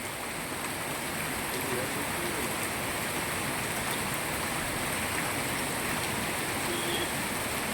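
Steady rain pouring down in Moti Gop, a dense, even hiss of falling water that carries on without a break, close and constant.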